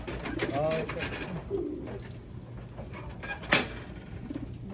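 Racing pigeons coo softly in a few short, rolling calls over background noise, with one sharp click partway through.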